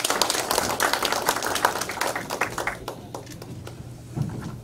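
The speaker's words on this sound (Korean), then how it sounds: "나올 때 이런 박수 한번 부탁합니다." A church congregation claps in dense, steady applause at a pastors' installation service that fades out after a few seconds, leaving a quieter room.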